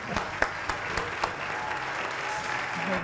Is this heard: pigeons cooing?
no